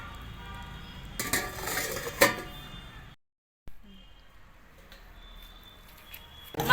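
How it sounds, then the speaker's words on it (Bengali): A spoon clinks and scrapes against a metal cooking pot of mutton as it is stirred, a few sharp knocks over a low simmer, with a short silent gap and a voice speaking briefly. "এবার আরেকবার ভালো করে নাড়িয়ে চাড়িয়ে আমি এবার ঢাকা দিয়ে দেবো"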